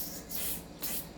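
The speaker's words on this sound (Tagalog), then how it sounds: "Press the valve, then spray." Two short hissing bursts of silicone oil sprayed into the valve of an airsoft pistol magazine, close and fairly quiet, with a brief gap between them.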